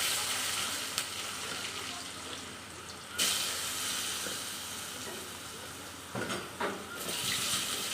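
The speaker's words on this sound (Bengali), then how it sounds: "এবার আলু দিয়ে দিচ্ছি" Potatoes fry in oil with toasted cumin for a jute-leaf stir-fry, giving a continuous hissing sizzle with a few sharper crackling bursts as the pieces go in and settle.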